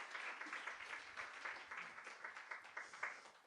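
Congregation applauding the pastor and mission team at a Wednesday revival service in a church, a steady wash of many hands clapping at moderate level throughout, with no voices over it.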